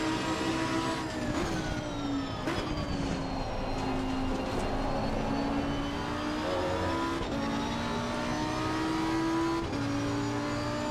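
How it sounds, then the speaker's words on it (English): Porsche race car engine roaring past on the outside line at Bathurst in a racing video game, a loud continuous whine with shifting pitch as it overtakes, other cars droning alongside throughout. "Another outside pass by the Porsche."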